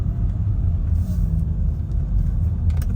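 A 2006 Mercedes SLK350 drives around the block, a steady, loud low road rumble heard from inside the car, with faint brief clicks near the end.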